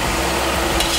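Crushed garlic going into a pan of sizzling vegetables for Chinese noodles, a steady close frying hiss with light stirring and a brief brighter crackle near the end, no voices.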